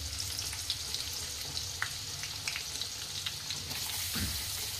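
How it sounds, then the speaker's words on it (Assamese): Onion, garlic and ginger frying in oil give a steady, close sizzle with faint crackles, running alone without voices for the whole stretch and swelling slightly near the end. "আৰু আনফালে মই পিঁয়াজখিনি আৰু নহৰু আৰু আদা ভাজি লৈছোঁ তেলত।"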